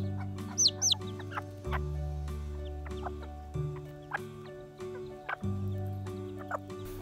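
Clucking from a Serama chick and its mother hen, a steady run of soft, repeated clucks with a few sharp high chirps near the start, close by with no talking.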